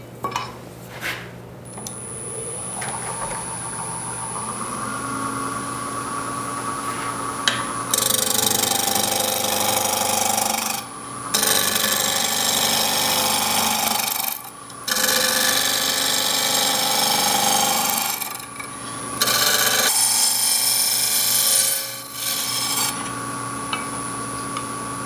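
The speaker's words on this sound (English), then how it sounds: "I'm going to go back to my spindle roughing gouge and true up this cylinder." Wood lathe spinning a rough-split log while a spindle roughing gouge trues it into a cylinder for a rustic box, loud close scraping bursts separated by brief pauses and a steady motor hum underneath.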